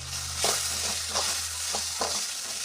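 Onion and tomato fry and sizzle steadily in a pan, with a few soft stirring scrapes spaced about half a second apart, close and moderately loud.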